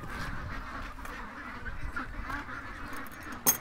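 Ducks on a farm quack faintly and repeatedly at a distance, their calls blending into a low, steady background. A louder bump sounds near the end.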